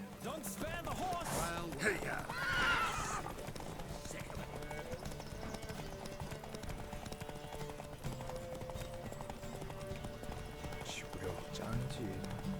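Horses gallop in a race in The Witcher 3, with steady clip-clop hoofbeats running under game music and speech, and a brief whinny near the start.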